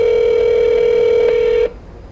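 A single steady telephone tone sounds loud and close for over a second and a half as a call is placed to a radio call-in show, then stops abruptly, leaving a faint hiss.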